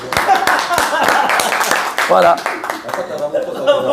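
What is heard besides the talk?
audience applauding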